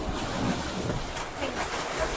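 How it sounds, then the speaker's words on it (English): Ocean waves heard from a boat at sea, a steady broadband wash of surf and rushing water mixed with wind noise, continuous and fairly loud with no voices. "These waves, they don't look that big, but they're actually still quite big."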